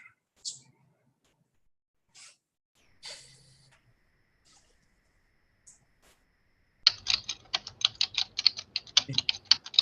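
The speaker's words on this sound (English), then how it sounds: "We can hear you typing." Rapid keyboard typing clatters in a fast, uneven burst after several scattered faint clicks and breaths, fairly close and clear.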